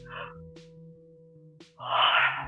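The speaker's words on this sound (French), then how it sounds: "Venez vous étirer et bailler un grand coup comme le matin quand on se lève" During a balance exercise class, a long, breathy yawn swells at the end of a morning-style stretch, preceded by a short exhale, over quiet background music.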